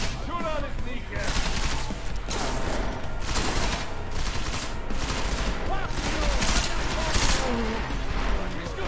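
Rapid bursts of automatic gunfire rattle through a Deus Ex: Mankind Divided firefight, sharp repeated shots layered over shouting voices and game noise for several seconds.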